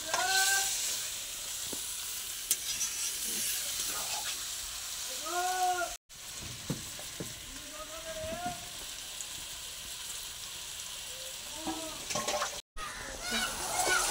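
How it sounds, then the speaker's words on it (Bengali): Chicken stir-fried in spice paste with tomatoes sizzles steadily in the pan as a spoon stirs and scrapes at intervals, with a voice talking over the cooking. "এবার চিকেনটাকে ভালো করে কষিয়ে নিচ্ছে"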